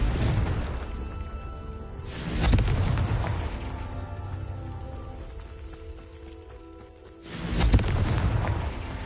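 Confringo blasting spell explosions in Hogwarts Legacy, two deep booming blasts several seconds apart, each a heavy low rumble over a steady ambient background.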